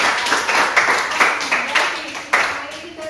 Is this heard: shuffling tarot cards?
no